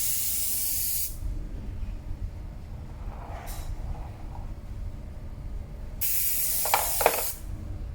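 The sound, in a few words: Humbrol airbrush spraying paint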